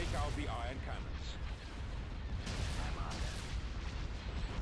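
Cannon fire in a Star Wars: Empire at War space battle (Thrawn's Revenge mod): dense, continuous booming barrages and blasts roll loudly throughout, layered with crackling bursts and faint voices underneath.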